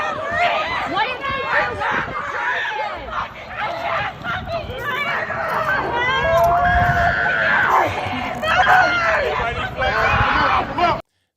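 Protesters in a street crowd scream and shriek amid loud, continuous chatter and babble, with sharp high-pitched screeches rising repeatedly over the din throughout.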